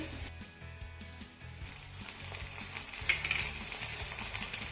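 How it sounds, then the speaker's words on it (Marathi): Chopped onion and ginger-garlic paste sauté in a hot pan, giving a steady close sizzle and crackle with some light scraping pulses underneath; no one speaks. "आता ही देखील आपल्याला एक मिनिटभर छान अशी परतून घ्यायची आहे"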